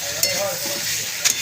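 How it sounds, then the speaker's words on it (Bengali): Chopped onion and ginger-garlic paste sizzle steadily in a pan for egg curry, with a couple of light scraping stirs cutting through the constant frying hiss. "এটা 5 মিনিট মতন আমরা নাড়াচাড়া করে একটু ঢাকা দিয়ে কষিয়ে নেবো"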